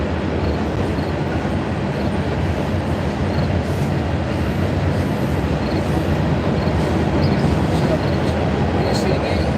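Trains passing near a river make a loud continuous rumble and roar of wheels on track, steady throughout with faint squeals, while a person talks over the noise.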